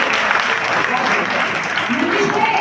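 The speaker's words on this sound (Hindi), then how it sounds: "यार बहुत बढ़िया ताली बजाते एक बार सच में" A seminar audience claps together in a dense, sustained round of applause that fills the hall, loud and continuous, with voices faintly mixed in.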